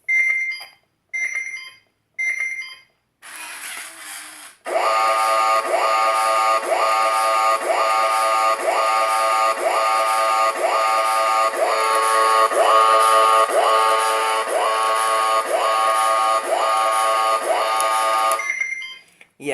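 A Roboboa robot alarm clock gives a few short separate beeps, then breaks into a loud, continuous, rapidly warbling electronic alarm that repeats in a steady pattern for about fifteen seconds before stopping abruptly.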